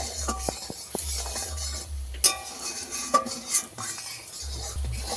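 A sweetened mixture with sugar boils and thickens in a pan while a utensil stirs it, scraping and clinking against the metal in irregular strokes over a soft bubbling, close by.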